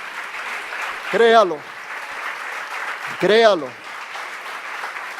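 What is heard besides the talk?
congregation applauding the Lord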